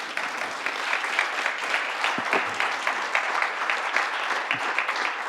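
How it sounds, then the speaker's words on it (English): An audience at a peace-building closing ceremony gives the panelists a sustained round of applause, even and moderately loud, many hands clapping in a fairly rhythmic patter. "So a big round of applause to our panelists."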